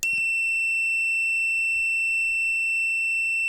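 A pure, sustained high-pitched tone hums steadily from a guitar string driven by an EBow in harmonic mode, smooth and unwavering, with only faint low noise beneath and no voices.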